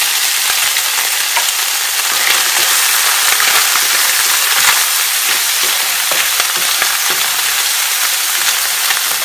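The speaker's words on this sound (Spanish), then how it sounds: "aquí tenemos un poquito de aceite, ¿verdad? Para freír nuestro jamón" Ham fries in a small amount of oil in a pan, a loud, close, continuous sizzle and crackle that holds steady throughout.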